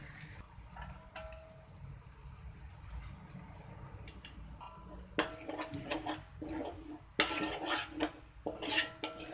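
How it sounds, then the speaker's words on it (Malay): Tomato sauce and soy sauces stirred together in a pan for fried rice vermicelli: soft scraping and clinking of a utensil against the pan, quiet at first, then sharper clatters and scrapes toward the end. "Kacau semua bagi sebati."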